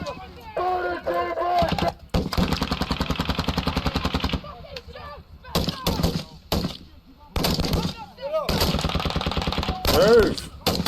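Marine infantry combat training with rifles fired uphill: sustained machine-gun bursts and rapid single shots, loud and close, broken by short pauses, with someone talking over the gunfire.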